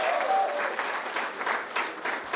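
A second, fuller burst of audience clapping for panelists at an arts discussion event, many hands applauding in a continuous crowded patter with slight surges, no talking over it.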